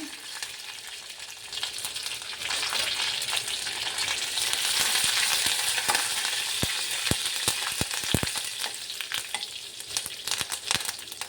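Curry leaves and cut Byadgi chillies sizzle steadily in tempering oil, a dense crackle with sharp pops and spits standing out near the end; no voices.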